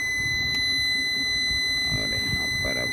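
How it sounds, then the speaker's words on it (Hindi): Buzzer of a Microtek 24x7 1600VA inverter under PCB repair sounds as one continuous, loud, steady high tone, with faint background noise and no talk. "अब बजर की आवाज़ आई कंटिन्यू"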